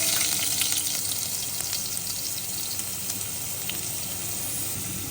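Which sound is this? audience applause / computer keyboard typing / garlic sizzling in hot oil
garlic sizzling in hot oil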